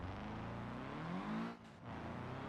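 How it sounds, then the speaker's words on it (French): A car engine in the BeamNG driving game revs up with a rising whine, then cuts out briefly before droning on, moderately close with no talking. "Regardez le moteur, vous allez voir. Je viens d'accélérer"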